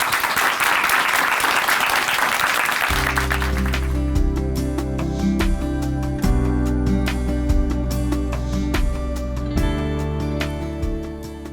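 A church audience at Chuncheon Hanmaum Church bursts into loud applause to welcome a speaker, and after about three seconds steady instrumental music swells in beneath the fading claps.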